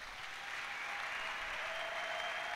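A church congregation claps and cheers for Jesus during a sermon, a steady, even wall of applause that sounds somewhat distant and soft.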